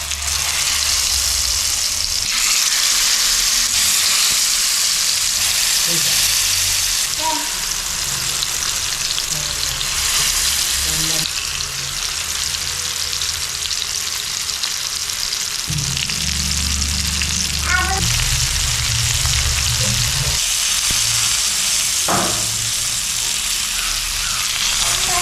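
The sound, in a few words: marinated pond fish frying in oil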